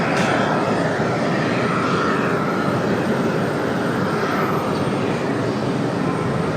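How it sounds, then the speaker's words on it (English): Icelandair jet on flight ICE 821 from Reykjavik arriving at Raleigh-Durham airport, a steady loud broadband engine roar held close and constant throughout, with no voices over it. "Next arrival, ICE 821 from Reykjavik."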